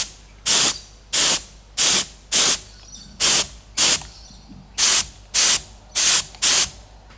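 A spray gun set to a narrow fan lays epoxy primer onto a panel of a Toyota Land Cruiser 80 Series. About ten short, loud, evenly spaced hissing bursts sound up close, separated by brief pauses, with no talking.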